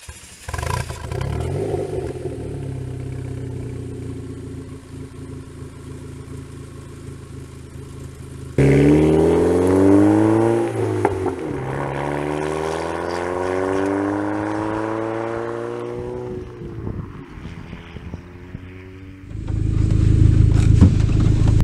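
An Opel Speedster sports car engine cranks and fires up, idles with a rough rumble, then revs and pulls away through rising gear changes, loud and close, ending in a heavy roar.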